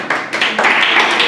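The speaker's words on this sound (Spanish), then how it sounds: "Vamos a darle un aplauso a Dios." A church congregation claps together in a burst of close, dense applause that carries steadily through a brief moment with no talking.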